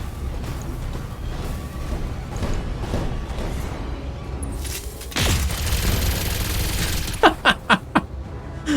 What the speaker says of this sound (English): the machine gun hit pretty well